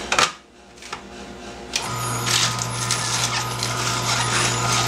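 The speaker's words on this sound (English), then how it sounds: "There's a lettuce going through, you see the machine spinning." A juicer machine spins up while lettuce is pushed through, starting with clattering knocks and then settling into a loud steady motor whine and grinding rattle, close and continuous without talk.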